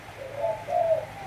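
A turtle dove coos twice in quick succession, two soft, low, throaty notes heard close up over a quiet background hum.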